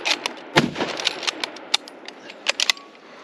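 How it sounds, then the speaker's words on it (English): Rapid fire from a Lee Enfield No4 Mk2 rifle in .303 emptying a magazine into trash at an outdoor range: a string of sharp, fairly distant cracks at irregular intervals, with a louder cluster near the end and no talk. "Target, we're just mag dumping in the trash."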